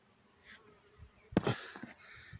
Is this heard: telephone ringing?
no